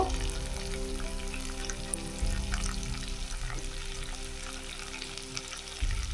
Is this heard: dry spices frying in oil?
yes